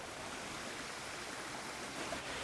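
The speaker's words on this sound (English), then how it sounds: "I guess I found the waterfall" A roadside waterfall near Kanchanaburi, Thailand, roars as a steady, dense wash of falling water, close and constant with no pauses or voices.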